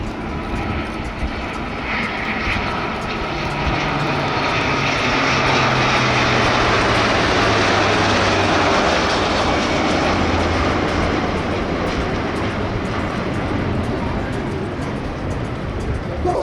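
C-130 military transport plane flying with two escorting Eurofighter jets at the Jesolo Air Show, a loud sustained engine roar that swells and slowly fades as the formation passes overhead, faint talk beneath it.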